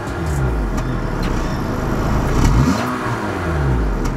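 Engine of a 2021 Honda City compact sedan running and revving, a steady loud mid-low drone with gentle rising and falling pitch throughout, no talking.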